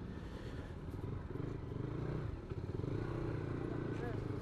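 A motorcycle accelerating in first gear from a standstill while travelling on the road, with a steady, rumbling engine drone that builds slightly, under people talking.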